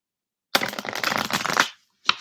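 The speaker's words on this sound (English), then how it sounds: "I'm just gonna pull a couple cards for you here" Tarot cards are shuffled in one continuous riffling burst of about a second, close and fairly loud, followed by a short pause and a brief snap as a card is pulled.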